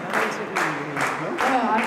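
Audience applause at a school of fine arts graduation ceremony, with steady clapping rising and falling in several swells over about two seconds, fairly loud and close.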